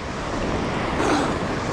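Big ocean surf off the Palawan coast, a steady loud broadband roar of breaking waves mixed with wind buffeting the microphone, continuous and close with no speech.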